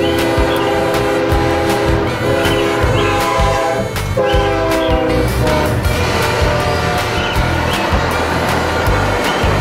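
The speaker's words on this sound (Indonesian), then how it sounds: "Ada kereta api." A passing train rumbles loudly while its horn sounds in long, sustained blasts, with wheel and engine noise running throughout.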